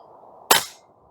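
A single sharp shot from an FX Airguns Crown MkII air rifle firing at targets 100 yards out, a crisp crack with a short decaying tail over faint outdoor background noise.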